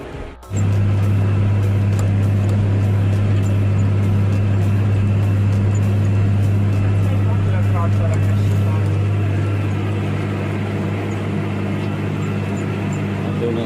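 A tractor pulls a Bednar Swifterdisc 8000F disc harrow into a field, a loud steady low engine drone with a constant hum beneath, heard up close from the cab while someone talks over it.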